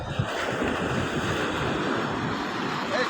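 Sea waves rolling onto the shore make a continuous broadband wash mixed with wind buffeting the microphone, steady and fairly loud throughout with no clear talking.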